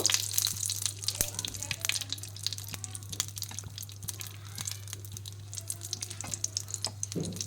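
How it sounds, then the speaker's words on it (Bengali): Half a cup of ghee melts and heats in a frying pan, giving a faint, steady crackle and hiss with scattered small pops. "আমি এখানে হাফ কাপ ঘি নিয়েছি আর ঘিটাকে ফ্রাই প্যানের মধ্যে দিয়ে দিলাম। এরপর আমি ঘিটাকে একটু গলিয়ে নেব।"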